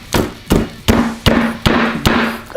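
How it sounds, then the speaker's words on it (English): Hammer repeatedly striking a lollipop laid flat on a hard surface, seven sharp, evenly spaced knocks about every half second, close and loud with no talk. "take your hammer and just hit it till it breaks."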